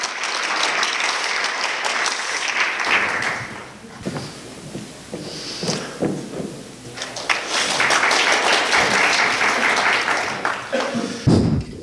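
Audience applause at a university symposium opening ceremony in Korea, steady clapping that dips briefly, then swells again, with some talk heard partway through.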